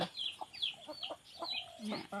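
An old hen with her chicks clucks softly, with short bursts and high chick peeps scattered over a quiet, slightly noisy background.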